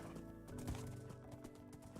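Horse hooves clip-clop in Minecraft, a few quick, soft footfalls with a brief whinny-like tone partway through, fairly faint with no talking.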